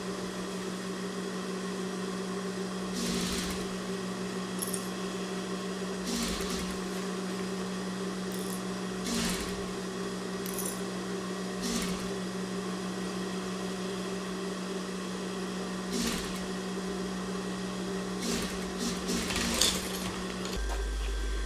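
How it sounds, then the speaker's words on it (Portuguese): Sewing machine stitching a lining onto a fabric bum bag, a steady motor whir running almost throughout with several brief pauses and restarts, close and fairly loud, no talking. "Vou colocar ele por cima e vou costurando."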